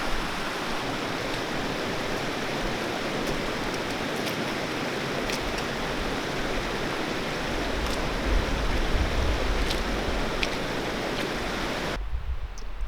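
Steady, broadband rushing of a mountain stream at about 8,200 feet in the San Gorgonio Wilderness, flowing close by, constant and full throughout with no voices, briefly cutting off near the end.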